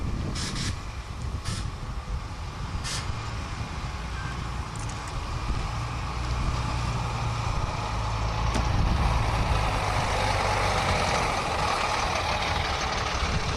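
Bus engine of the 1547 show bus at Duxford, a steady low rumble idling and edging forward through an entrance. The diesel drone grows slightly louder toward the end, with a few sharp clicks early on.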